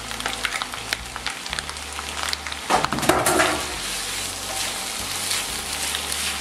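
Cabbage, shredded sauerkraut, sizzles and fries in a pan with a steady hiss. Scattered clinks of stirring come through, with a louder burst of crackle midway.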